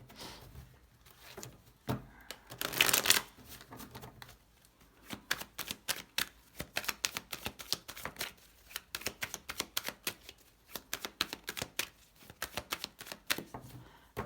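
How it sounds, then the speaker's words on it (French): Tarot cards are handled on a table: a brief shuffle, then many sharp, close, irregular taps and snaps as five cards are drawn and laid out, fairly quiet overall. "On va poser les 5 cartes."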